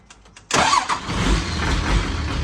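A Hino FD dump truck with an HO7C diesel engine cranks briefly with a few starter whirs, then fires loudly and settles into a steady rumbling idle close by.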